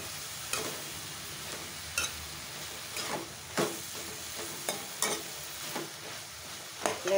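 Eggplant pieces frying on high heat in a pan, with a soft steady sizzle and hiss broken by repeated sharp scraping clicks of a spoon stirring against the pan.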